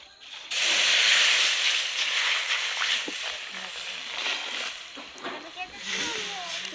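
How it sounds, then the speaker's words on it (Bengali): Milk poured into a wok for dudh gokul pitha, a steady close splashing and sloshing pour that starts sharply and continues for several seconds, easing slightly toward the end. "কড়াইয়ের মধ্যে দিয়ে দেব দুধ।"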